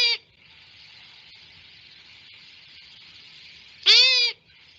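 A recorded Ohio owl call plays back twice: a short hooting burst, then about three and a half seconds of steady hiss, then a second, louder and longer call.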